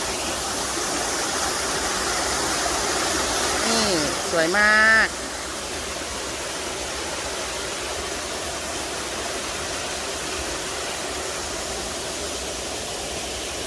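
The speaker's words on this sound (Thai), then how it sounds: "นี่ค่ะน้ำตกอลงกร น้ำตกอลงกร" Steady roar of the Alongkorn waterfall fills the whole stretch as a constant broadband rush, with someone speaking briefly over it early on.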